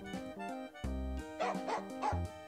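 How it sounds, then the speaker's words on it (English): A mobile video game's dog bonus sound effect: a short run of synthesized, pitched barks and yips in a bouncy rhythm, close and clean. "The dog bonus sounds."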